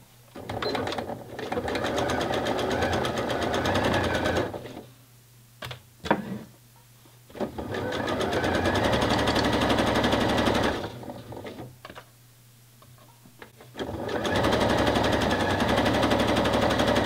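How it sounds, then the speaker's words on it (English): Sewing machine stitching a 1 cm seam on a bra, running in steady loud bursts with short pauses between passes, no talk. "So now I'm just going to sew that again with a 1 cm seam allowance."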